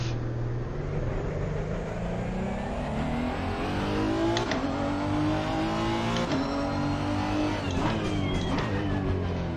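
A Honda NSX (2018) race car engine in the video game Assetto Corsa Competizione at Spa revs hard and continuously, pitch climbing and dropping through gear changes, loud and close with no talking.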